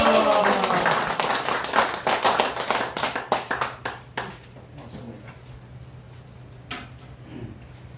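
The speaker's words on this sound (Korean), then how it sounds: "모실 때 함성과 더불어 우레와 같은 박수를 모셔야 됩니다" An audience in a lecture hall breaks into clapping to welcome the lecturer, loud at first, then fading into scattered claps and a quiet room.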